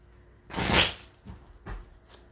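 A deck of tarot cards is shuffled in one loud riffle, followed by two softer shuffling bursts, close up with no talking.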